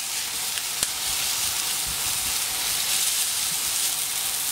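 Coquelets sizzle on a hot plancha right after being flipped, a steady, close hiss of frying that holds evenly throughout with a single sharp tick early on.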